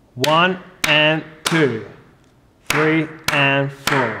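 Drum hits play a two-short-one-long pattern of two eighth notes and a quarter note, repeated twice with a pause between, while a voice counts the beats aloud over them.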